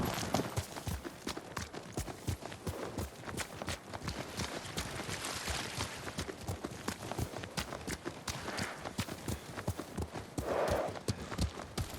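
Horses gallop in Ghost of Tsushima as riders set off, a fast continuous clip-clop of hooves pounding steadily and loudly throughout, with a brief whinny-like swell near the end.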